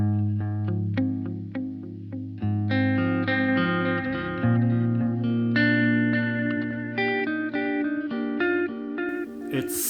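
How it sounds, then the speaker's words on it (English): A played melody runs through a delay pedal preset, with distinct notes over sustained low tones and trailing repeats, steady and fairly loud with no talk. "The tone of the melody that I will play is just set by the delay algorithm."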